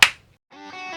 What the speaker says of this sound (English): You're going to have to clap again.